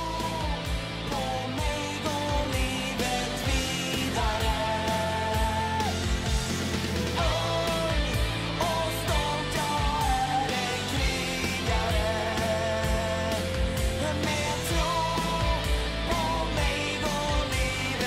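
Swedish rock band of the Sweden Democrats plays a full cover of a song, with drums, bass, guitars and melody running loud and continuous throughout.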